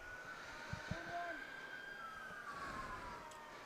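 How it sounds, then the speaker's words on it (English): Town warning sirens sounding in Prescott during a varsity baseball game: a faint, distant wailing tone that slowly rises and falls, heard under outdoor ambience and a couple of soft thumps. "The sirens continue to go off here in Prescott."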